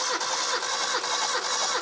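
A Mitsubishi Lancer GSR engine cranks on the starter during a compression test, a fast, even, rhythmic churning with regular pulses throughout, close and loud with no talking.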